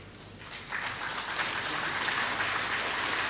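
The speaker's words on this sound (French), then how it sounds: "Et de les applaudir." Audience applause for steering committee members standing up at a speech on African media, starting softly and swelling into steady, even clapping that continues to the end.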